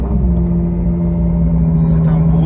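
A Ferrari 812 GTS V12 running close by with a deep, loud, steady idle rumble, and a brief higher-pitched burst near the end.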